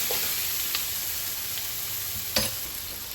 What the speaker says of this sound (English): we're going to add our onions and our carrots to the fat that's already in the pan